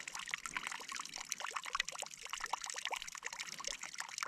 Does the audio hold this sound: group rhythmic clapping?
no